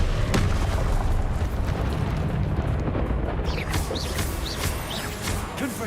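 Confringo fire spells bursting in combat in the Hogwarts Legacy video game on PS5, a dense run of booming blasts and crackling impacts over a constant roar of battle noise, with whooshing magic effects layered on top.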